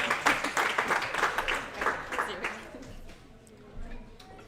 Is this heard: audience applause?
yes